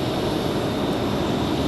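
A CRJ regional jet at Raleigh-Durham airport produces a steady, continuous engine roar, fairly loud and even, with no voices over it.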